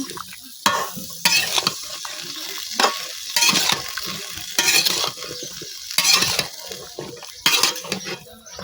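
A spoon stirs potatoes, eggplant and other winter vegetables with dried mola fish and spices in a pan, producing a sizzling fry under repeated rhythmic scraping strokes, about one every second, close and clear.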